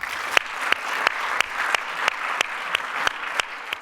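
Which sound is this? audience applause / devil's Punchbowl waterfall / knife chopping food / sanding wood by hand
audience applause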